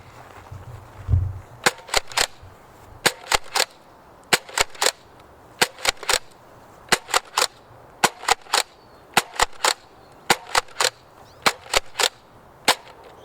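A Nerf Modulus Battlescout blaster fires ten foam darts down an 80-foot range, each shot a sharp snapping pop, spaced in quick pairs and singles at a steady pace with no talking.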